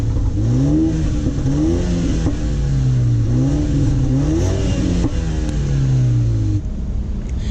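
A car engine revs through real exhaust pipes, a loud, close, steady burbling drone with a series of rising and falling rev sweeps before it settles, no talking.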